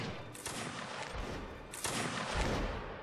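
Two crackling musket volleys erupt in a line battle video game, each a dense burst of overlapping shots, the second slightly louder, with distant background noise between them.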